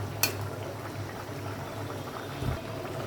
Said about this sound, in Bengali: আর একটু সিদ্ধ হোক